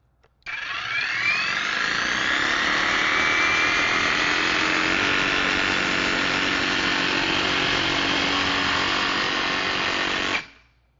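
A TapeTech insulation cutting tool slices through a rock wool batt, starting abruptly with a loud, steady, high-pitched whirring buzz that holds for about ten seconds before cutting off sharply.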